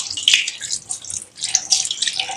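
Soup ingredients washed under running tap water in a sink, a continuous splashing hiss with rustling as they are rinsed, close and fairly loud throughout.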